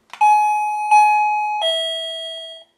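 A new wireless doorbell chimes three clear bell tones, the last one lower and held, ringing out loud and close before fading to silence.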